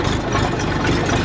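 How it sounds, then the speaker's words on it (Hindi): A new tractor engine runs with a steady, loud, low rumble and even knocking pulse, heard close up and alone for just over a second. "ट्रैक्टर बहुत अच्छा चल रहा है"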